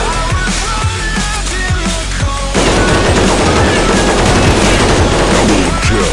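Rapid automatic gunfire from an AK74U and AKM in a video game weapon test, close and loud. Sparse single shots come first, then a sustained dense burst fills the rest.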